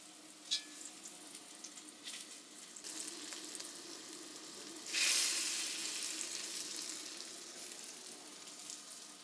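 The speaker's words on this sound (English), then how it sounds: "Meatballs are in the pan. And when these are simmering" Miso meatballs sizzle and simmer in a pan, a steady frying hiss throughout with a louder burst of sizzling partway through, no voices.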